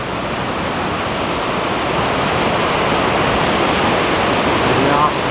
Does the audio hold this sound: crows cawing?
no